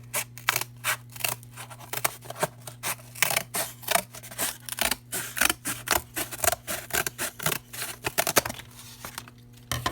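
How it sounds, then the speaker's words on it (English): Scissors snip repeatedly through cardboard along a ruled line, a steady run of crisp, close cuts with brief pauses over a constant low hum. "I'll take a pair of scissors and I will cut right along that line as accurately as possible"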